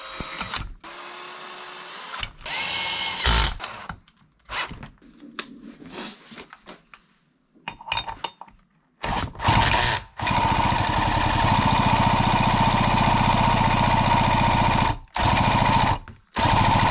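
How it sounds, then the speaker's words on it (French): A cordless drill spins the engine of a professional Stihl hedge trimmer in a series of harsh rattling bursts and stops, ending in a long, loud, continuous mechanical clatter broken only by brief cuts. "ce que j'essaye de faire, c'est de redémarrer cette machine, vu que j'ai pas de lanceur, en utilisant la visseuse"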